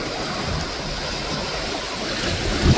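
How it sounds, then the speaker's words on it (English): Ocean waves wash onto a private island beach in a steady, broad roar of surf, continuous and fairly loud with no speech. "As you can see, the beautiful blue ocean in the back."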